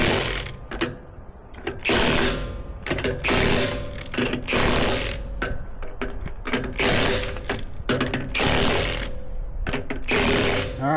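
Lug nuts on a Dexter 10k trailer axle wheel being tightened, likely with an impact or ratchet tool, in repeated bursts of loud mechanical rattling and whirring with short pauses between, close up, no voices.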